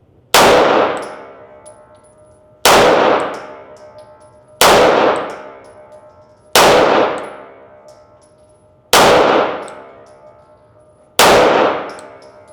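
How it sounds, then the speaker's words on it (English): Six loud, sharp pistol shots from a Combat Master, fired from 7 yards at a slow, even pace about two seconds apart, each a hard crack followed by a ringing decay. "I'm gonna shoot it from 7 yards."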